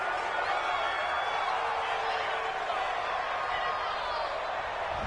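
Home crowd in a PS4 American football video game, heard as a continuous broad roar of cheering that stays level and fills the whole stretch, with no clear talk over it.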